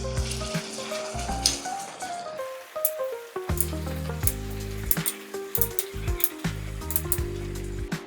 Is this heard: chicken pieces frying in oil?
yes